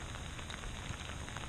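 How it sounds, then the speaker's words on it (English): Rain falls outdoors beside a pond, a faint, steady hiss of drops pattering on surfaces with no other sounds standing out. "I'm dealing with a lot of rain out here"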